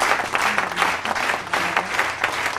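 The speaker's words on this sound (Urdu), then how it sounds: "میں چاہوں گا کہ آپ خوب تالیاں بجا کے ان کا استقبال کیجئے" An audience applauds to welcome a reader onto the stage for a reading of Tagore's Kabuliwala, a steady, dense clatter of many hands clapping close by, without pause and with no talking over it.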